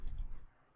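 A computer mouse clicks once while working in SketchUp, a short, faint, close tap followed by quiet.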